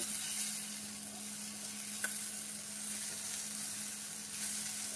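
Okra frying in an open pan, a faint steady hiss of sizzling under a constant low hum, with a single light tap of a spoon midway and no talk.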